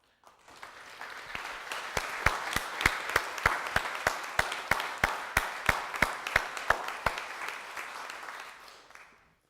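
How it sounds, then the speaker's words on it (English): A church congregation claps in a steady, fairly even rhythm. The applause swells in, holds, then fades away, distant and moderate in a reverberant hall. "offer one another a huge round of applause for the work that you do for the church"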